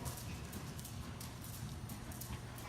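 Horses trot during a riding lesson, their hoofbeats a steady dense clatter on arena ground, faint under broad background noise and with no speech.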